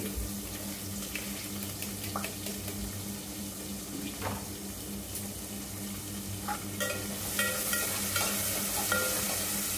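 Meal maker soya chunks fry in hot oil, a steady sizzle under scraping stirs, and near the end onions drop in and the frying swells louder and brighter. No one speaks.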